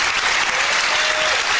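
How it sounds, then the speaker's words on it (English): At a 1995 world 8-ball pool championship semifinal, a crowd applauds steadily and loudly, with dense continuous clapping and no speech over it. "the crowd cheering both of these competitors on"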